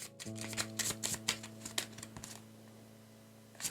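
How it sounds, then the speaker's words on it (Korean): Tarot cards shuffled and drawn by hand, a run of quick papery snaps and riffles over a low steady musical hum, fading to near quiet after a couple of seconds. "카드 좀만 더 뽑아볼게요"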